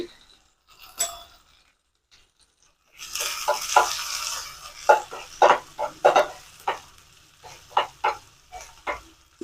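Onions and a sprig of curry leaves sizzling in hot oil for a fish curry, with a steady crackle under repeated sharp spoon-stirring clinks and scrapes against the pan, close up, after a quiet start.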